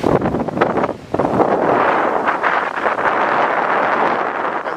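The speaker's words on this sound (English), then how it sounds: "It's very windy." Strong wind roars and buffets the microphone continuously at New Smyrna Beach, a loud broadband rush with a brief lull before gusting back up.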